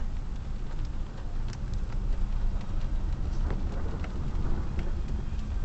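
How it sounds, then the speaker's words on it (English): Steady rain pours down during a thunderstorm outdoors near a Wal-Mart, a dense continuous hiss with scattered close drop impacts throughout. "here comes SpongeBob logic and how badly accurate this fucking rain is."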